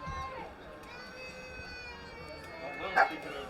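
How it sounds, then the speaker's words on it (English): A dog mascot gives one short bark near the end, heard over faint crowd murmur and distant voices at a junior varsity high school football game. "Ryan, our mascot is barking at you, buddy."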